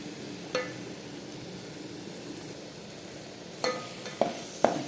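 Chicken masala biryani stirred in a pan with homemade masala: a steady faint sizzle runs throughout, broken by a few sharp scrapes and clinks of the spoon against the pan, one early and a cluster near the end.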